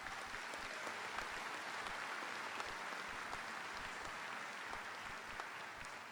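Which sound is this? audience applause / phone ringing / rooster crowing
audience applause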